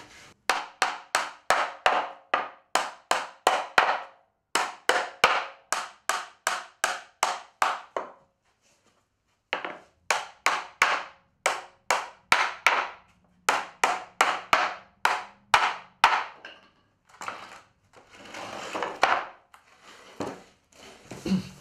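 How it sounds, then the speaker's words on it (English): A hammer drives nails into pallet wood gate panels in rapid bursts of sharp, evenly spaced knocks, six to ten blows per group, separated by short pauses, close and clear with no talking. "I'm going to nail these in"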